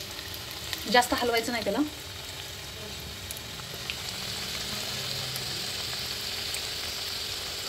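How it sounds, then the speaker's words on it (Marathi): Kothimbir vadi, coriander fritters, fry in oil in a pan over a low gas flame, giving a continuous soft sizzle and crackle; a short stir of the pan comes early and someone speaks briefly over it. "हे बघा आता मी गॅस बारीक करणार आहे, म्हणजे ते खरपूस चांगल्या भाजतील."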